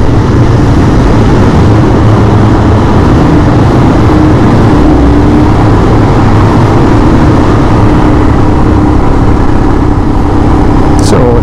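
A 2022 Royal Enfield Himalayan motorcycle rolls through town traffic, its engine a loud, steady low drone mixed with rushing wind, close to the microphone and unbroken from start to finish.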